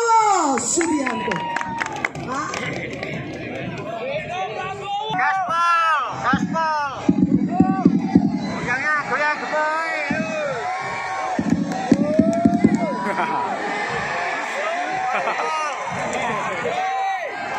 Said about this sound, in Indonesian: Berikan tepuk tangan sekali lagi yang paling meriah untuk Bapak Prabowo Subianto.